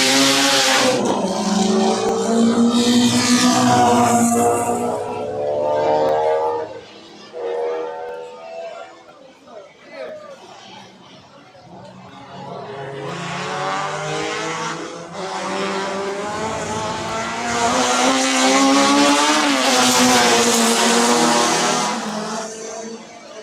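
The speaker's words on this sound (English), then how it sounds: "we have racing veteran Jeff Larman flying around the track in his yellow car" A yellow race car driven in qualifying at the JRDC Carnival of Speed 2025 roars around the track into corner one, its loud engine whine rising and falling in sweeps as it passes, with a quieter gap midway.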